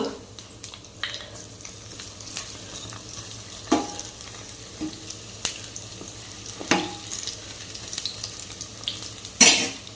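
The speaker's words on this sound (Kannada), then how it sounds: "ಈ ಬಗ್ಗಿ ಮೇಲೆ ಸ್ವಲ್ಪ ಸ್ವಲ್ಪ ಎಣ್ಣೆ ಹಾಕಬೇಕು ಆಗ ಎಲ್ಲ ಕಾಯ್ತದೆ ಮತ್ತು ನಿಧಾನವಾಗಿ ನಾವು ಇದನ್ನು ಉಲ್ಟಾಕಬೇಕು" Capsicum bajji fry in oil in a pan, a moderate, fairly quiet sizzle punctuated by scattered clicks and scrapes of a utensil turning the fritters, over a faint low hum.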